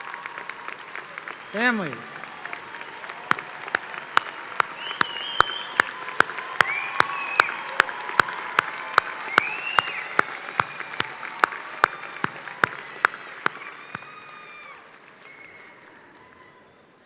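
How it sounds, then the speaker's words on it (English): Sustained applause from a large commencement crowd honoring graduates' families, a broad steady wash of clapping lasting many seconds with a few louder individual claps on top, and a brief spoken word at the start before it fades out. "Thank you, everyone, for the nice round of applause in recognition of what the families have contributed"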